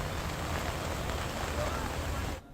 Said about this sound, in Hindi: चंद घंटे की बारिश में पूरी तरह से सड़कें बर्बाद हो गई